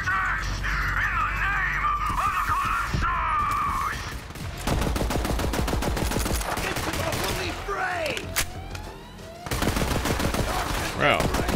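Weapon fire in the video game Borderlands 3: rapid bursts of shots in several volleys, loud and close, with stretches of other game sounds and a voice-like passage before the firing.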